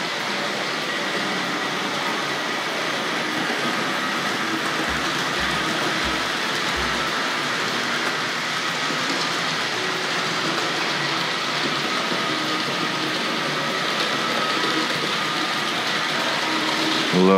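A Hornby model train locomotive runs on its track with a steady, continuous whirring rumble that holds at an even level throughout, close by and without pause.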